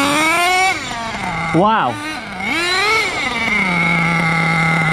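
An HPI Racing Savage X4.6 nitro RC monster truck engine whines loudly at high revs, blips and swoops in pitch, then settles into a steady buzzing idle, while a man exclaims over it.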